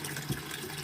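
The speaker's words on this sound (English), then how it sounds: "I'm just letting it fill up. I use straight out of the tap." Tap water from a filtered, softened household supply pours steadily into a container, a soft continuous close-range splashing stream with no voices.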